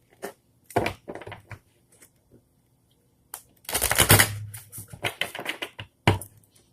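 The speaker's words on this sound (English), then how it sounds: "So I'm going to go ahead and get started on the shuffle." Irregular bursts of oracle card riffling and soft clicking, close up, with quiet pauses between shuffles and one longer, denser flurry midway.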